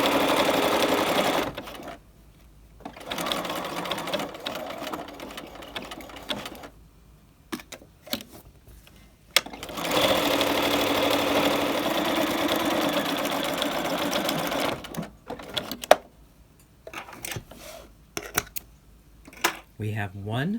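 A sewing machine runs in steady bursts while stitching a raglan collar with ordinary thread on the inside of a garment, starting and stopping several times with quiet pauses between runs.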